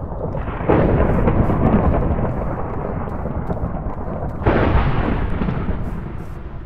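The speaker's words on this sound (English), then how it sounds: "A few lightning bolts went off there." Thunder from lightning bolts in a Minecraft Hunger Games match, heard as a loud rumbling crack followed by a long roll, then a second strike that booms and fades, close and with no talking.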